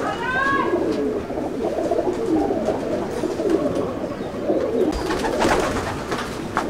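Jack breed pigeons in a loft coo in soft, repeated rolling calls close by, with a few higher chirps early on and a brief rustle or flutter near the end.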